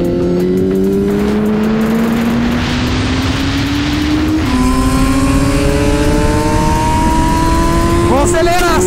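A Kawasaki Z900 motorcycle accelerating hard on a race track, the engine note climbing steadily through the gears with a brief dip at a shift, loud and close, with a voice over it.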